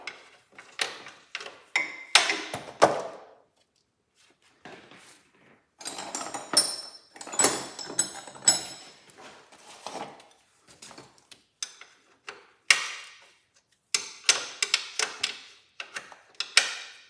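A wrench works 9/16 bolts out of a Cub Cadet Cyclops Ross steering box, giving close, sharp metallic ratcheting clicks and clinks in irregular short bursts separated by quiet gaps.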